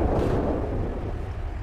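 A video game tank cannon goes off in one heavy, booming blast whose rumbling decay fills the rest of the moment, with no talk over it.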